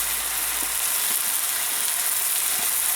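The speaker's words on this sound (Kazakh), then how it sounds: "Міне тауықтың төс еті қуырылып жатыр" Chicken breast fries in a pan with carrots and onions, giving a steady, close sizzle that hisses evenly throughout with no pauses and no voices.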